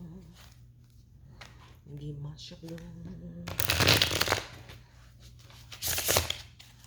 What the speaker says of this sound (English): Shuffle these cards up and see what they tell me.